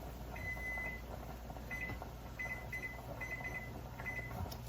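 Kitchen timer on a stovetop beside a boiling pot, giving a series of short, bright electronic beeps in irregular bursts over a steady hum of boiling and kitchen noise.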